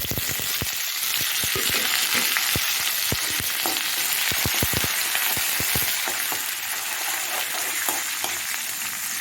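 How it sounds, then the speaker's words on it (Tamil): Dried red chillies, curry leaves and onion fry together in hot oil, a constant loud sizzle overlaid by a rapid series of crisp spatula taps and scrapes against the pan. "இந்த வரமிளகா கருவேப்பிலை வெங்காயம் இதெல்லாம் ஒன்றாவே போட்டு"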